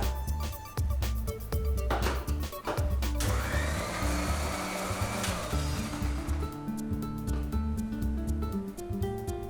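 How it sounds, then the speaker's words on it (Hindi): A kitchen blender grinds about two tablespoons of cowpeas with a little water, a loud whirring motor in bursts that settles into a steady churning whine, with no talk over it. "थोड़ा सा लोबिया लेके मैं ब्लेंडर में पीस लेता हूं"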